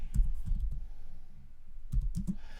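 Quick bursts of keystrokes clatter on a computer keyboard, a cluster of clicks, a pause, then another short flurry of typing, close and fairly quiet.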